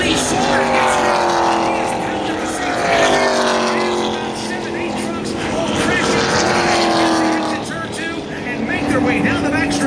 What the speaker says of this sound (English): Others are spinning, crashing, and colliding. About a half a dozen race trucks.